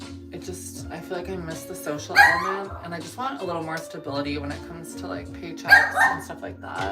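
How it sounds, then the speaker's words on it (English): A toy poodle yaps and barks steadily in the background of a room while someone talks continuously over it, with the small dog's bursts rising louder at a couple of points. "Sorry about the barking."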